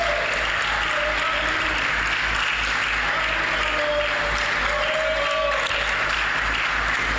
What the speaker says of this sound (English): Please keep clapping till she gets on stage.